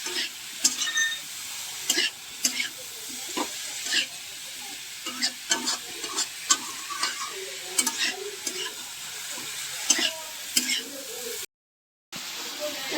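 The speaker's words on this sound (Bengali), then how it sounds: "মশলাটা মিশিয়ে নেব এর সঙ্গে, মিশিয়ে এটাকেও ভালো করে কষতে হবে" Shredded cabbage is stir-fried with spices in a pan, with repeated scraping strokes of a spatula over a steady sizzle, the clicks coming in an uneven rhythm close up.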